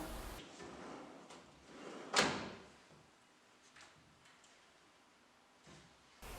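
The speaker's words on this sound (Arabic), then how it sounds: "ونستمتع بخاصية الغلق البطيء من بلوم." Blum soft-close drawers on a handmade dining buffet slide shut. A few soft sliding and bumping sounds lead to one clearer closing thud near the middle, followed by faint settling noises in a quiet room.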